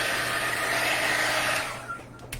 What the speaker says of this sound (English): I'm just going to dry a little bit. Don't stick your dryer in the wet paint.